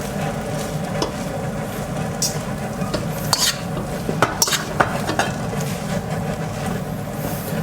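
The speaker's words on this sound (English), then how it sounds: "Mix it until the color will be evenly to all of the noodles." Dark soy sauce noodles are stirred in a hot pan, giving a steady sizzle with repeated scraping and clinking of a utensil against the pan. The sharper metallic knocks are scattered through the clip, and no one speaks.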